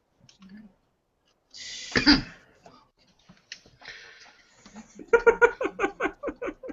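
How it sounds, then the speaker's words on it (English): A sharp, harsh cough bursts out around the middle, with a few softer throat noises before it and some clicky, bubbly sounds afterward. "No, I was coughing for"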